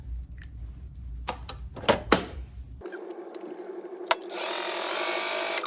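A sewing machine stitches scrunchie fabric: a few clicks and handling knocks come first, then a steady, close mechanical whirr runs for several seconds at moderate volume.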